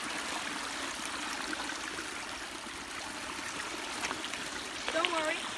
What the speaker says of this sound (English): Looks like a waterfall here.